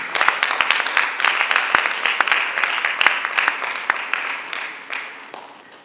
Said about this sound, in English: Can we put him another round of applause, please?